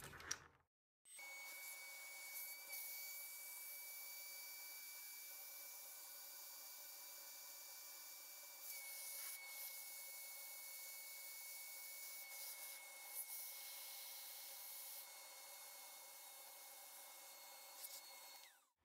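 A Dremel rotary tool cuts through a 1.5 mm carbon rear underguard for a Tamiya Mini 4WD car, giving a steady, high-pitched sanding whine that runs nearly unbroken for about eighteen seconds at close range.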